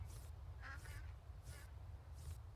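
Ducks quack in the farming game Farm Together 2, four short nasal quacks spaced about a second apart over a steady low background hum.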